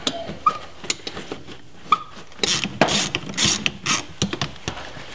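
A ratchet wrench works loose a shock absorber nut during a shock installation, producing irregular sharp metallic clicks and short ratcheting bursts, close and fairly loud, with no talking.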